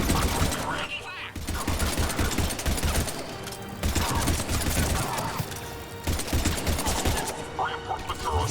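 Rapid bursts of gunfire from a Mass Effect 3 battle rattle almost continuously, loud and close, with heavy impacts and layered shots under game voices and a busy combat mix.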